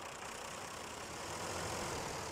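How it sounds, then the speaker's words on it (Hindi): A tractor engine straining under full load while pulling a truck and rocket trailer stuck in mud, a steady dense heavy roar that holds without a break and grows slightly louder toward the end. "ओ भाई, ट्रैक्टर अपनी पूरी पावर लगा रहा है"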